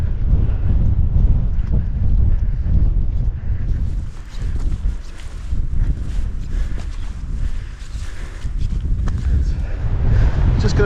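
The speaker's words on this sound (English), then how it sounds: "It's pretty windy, but there you go" Wind gusts buffet the microphone on a mountain ridge, a loud, continuous roar that swells and dips throughout.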